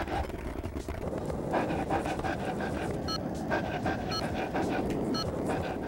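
In Tony Hawk's Underground, a dog being walked on a leash pants in quick, steady breaths against a busy, continuous street-like background ambience.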